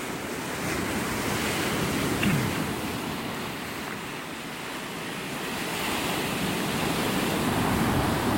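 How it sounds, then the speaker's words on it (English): Ocean surf breaking steadily on a beach in North Naples, Florida, a continuous broad wash with gentle swells and some wind noise on the microphone, no voices. "Those waves are something else."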